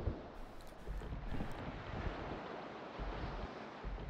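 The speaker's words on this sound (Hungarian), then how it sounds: "Az igen, az már hullám volt rendesen." Ocean waves and wind from the sailing game Salt 2: Shores of Gold wash past in a dense, continuous roar, heard loud and close while a boat moves through the surf.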